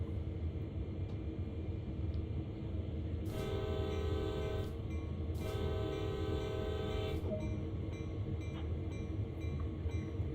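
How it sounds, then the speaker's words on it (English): Locomotive horn blown twice in a simulated train ride, two sustained tonal blasts of about a second and a half each over a steady rumbling engine drone, no voices. "sound the horn twice"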